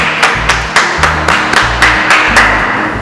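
Audience applause at a prize draw for a Japanese restaurant's opening event, a steady run of bright claps repeating in a regular rhythm, fairly loud and close, with low thumping underneath and no talking.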